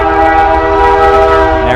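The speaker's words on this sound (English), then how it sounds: "Here's the train. Excuse me, it's gonna honk." A loud, sustained train horn blares close by, a steady multi-tone blast with rumbling underneath.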